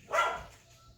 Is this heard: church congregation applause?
no